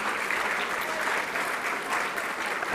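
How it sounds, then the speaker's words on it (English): Applause at an awards night for a netball club's players, a dense, sustained roar of many hands clapping that stays steady and full from start to finish. "a round of applause for all of our Vixens in 2022"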